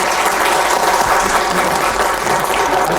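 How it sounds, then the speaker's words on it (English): A panel discussion audience at a history museum applauds loudly and steadily, dense clapping filling the whole stretch without a pause. "how about another round of applause?"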